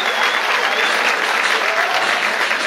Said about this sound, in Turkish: Onlar için kocaman bir alkış alalım lütfen.